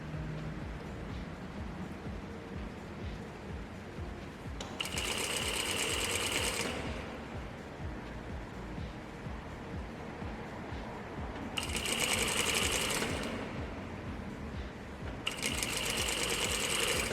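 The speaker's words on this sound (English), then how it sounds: "this is going to be a 5mm stitch again on the pocket mouths" A home sewing machine stitching a 5mm edge stitch along the pocket mouths of elastic-waist pants, running in three close, steady bursts of rapid mechanical whirring separated by quiet pauses.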